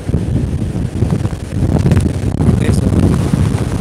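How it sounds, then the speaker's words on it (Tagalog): Strong wind from Typhoon Opong roars and buffets the microphone on a seaside boulevard in Bicol with big waves nearby, a steady loud rumble throughout while someone speaks briefly. "malakas na hangin, napakalakas"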